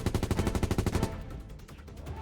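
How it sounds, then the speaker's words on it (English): Rapid burst of automatic gunfire, about a dozen evenly spaced loud shots in quick succession for roughly a second, then a fading echo and quiet rumble. "The sound of the gunfire clashed at point-blank range."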